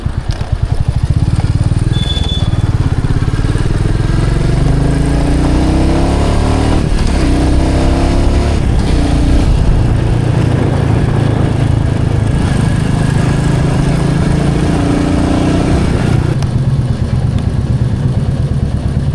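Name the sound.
Royal Enfield Meteor 350 motorcycle riding at night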